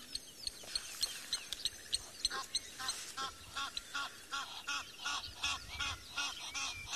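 Repeated harsh honking calls from Egyptian geese flying over on safari, a rapid series of loud, rasping notes over an outdoor background, some calls overlapping.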